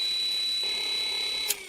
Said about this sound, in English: except for this ultra annoying beep